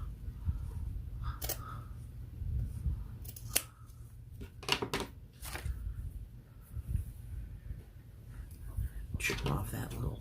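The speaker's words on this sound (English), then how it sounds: "I'm just gonna trim off a little slice of it." Scissors trim paper for a handmade spooky journal, with close, crisp snips in short irregular bursts between quieter handling sounds while a person talks.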